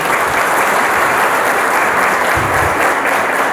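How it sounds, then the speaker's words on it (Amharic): Sustained, dense audience applause fills a celebratory Ethiopian holiday gala honouring women, steady and loud throughout with no speech over it. "አጨብጭቡላት፣ ይገባታል።"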